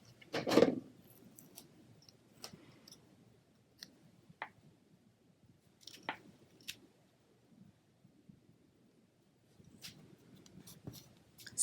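Cardstock being trimmed for a Stampin' Up! paper craft project, heard as faint, sparse cuts and clicks with soft handling noises in a quiet room.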